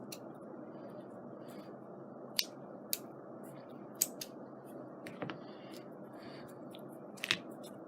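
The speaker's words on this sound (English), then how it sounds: "Cut the excess off." Scissors trim excess paper from a bird-themed scrapbook page, giving a few faint, sparse snips spread across a quiet stretch with no speech.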